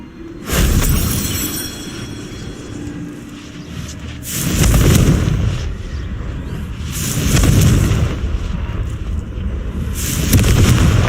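Confringo blasting-spell explosions in the Hogwarts Legacy video game: several loud, deep booming blasts with rumbling tails, coming in waves about every three seconds, with debris-like crackle at the onsets.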